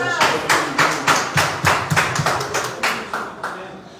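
Applause at a Liberian press union petitioning ceremony, a series of loud, close, uneven claps and slaps in bursts, irregular rhythm, fading toward the end, with no talk over it.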